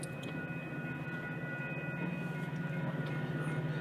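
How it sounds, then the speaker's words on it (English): An Amtrak passenger train rolls past at steady volume with no horn, a constant low rumble and rail noise filling the scene, faint high whine tones running through it. "Yep, it's an Amtrak train."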